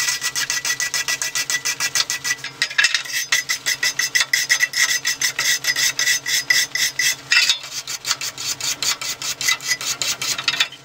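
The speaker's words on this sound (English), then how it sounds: "We'll wire brush it down, and then we'll clean it again with acetone" Stainless steel wire brush scrubbed over aluminum before welding, a loud steady rhythmic rasping of quick back-and-forth strokes, close and continuous with no talking.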